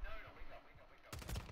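Call of Duty gunfire bursts in sharply after a quieter stretch, a quick rattle of close, loud shots near the end with faint talk around it.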